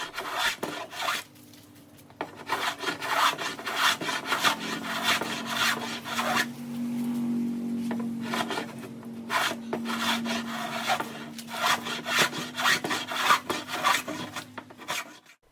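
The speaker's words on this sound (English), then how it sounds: "A hand plane is used to remove the edges and shape the pole." Hand plane shaving the edges of an octagonal wooden sailboat whisker pole to round it, a steady run of rasping, scraping strokes in quick irregular rhythm, close and fairly loud with no talk.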